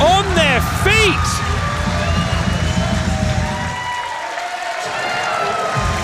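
A crowd at a World Series Wrestling event in Adelaide, South Australia, applauds and cheers loudly throughout, with a commentator's voice layered over the steady roar and clapping.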